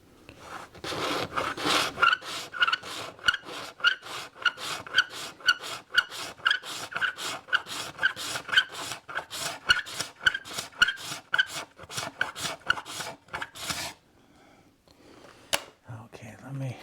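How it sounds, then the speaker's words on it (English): A steel scraper blade draws over the wood of a rule joint in quick, rhythmic rasping strokes, about a dozen close scrapes in a row, then it stops and the room goes quiet apart from a few light knocks. "with a scraper blade that reduces the tear out"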